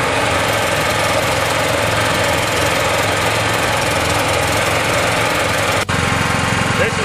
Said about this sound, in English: then you will start your generator